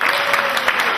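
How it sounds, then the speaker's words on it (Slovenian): Spontaneous applause at a sports awards ceremony, a steady, dense patter of many hands clapping together for a brief moment, with no voices standing out. "En spontan aplavz."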